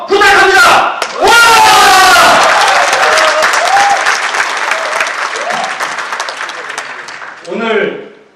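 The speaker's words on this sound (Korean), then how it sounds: "다시 한번 큰 박수와 큰 함성 부탁합니다." Loud crowd applause and cheering with shouts at a Korean social workers' association presidential election rally, a dense roar swelling then easing, with a short voiced cheer near the end.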